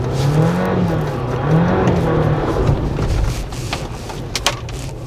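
A Jeep Wrangler 4xe in hybrid mode pulling itself out of a rough off-road patch, the engine droning loudly with rising and falling revs, then easing back to a lower rumble.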